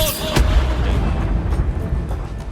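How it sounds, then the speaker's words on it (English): A thunder wave spell effect from a Waterdeep: Dragon Heist tabletop game session opens with a sharp, clap-like crack, then rolls on as a deep, booming rumble that slowly tapers off. "he claps his hands together and casts thunder wave"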